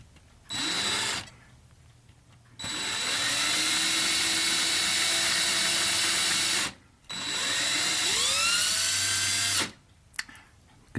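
A small power drill boring into a model ship part clamped in a vise runs in three bursts separated by short pauses, whining steadily at close range with a slight pitch rise as each burst starts, and no voices.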